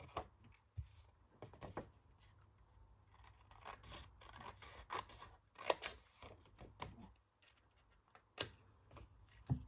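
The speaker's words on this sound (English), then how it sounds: "I'm just going to angle cut this little piece roughly, hopefully it'll look as even as I can" Scissors make angle cuts in a small piece of paper during a paper craft project, producing a series of sharp, close snips and crisp rustles at irregular intervals, quiet and with no voices.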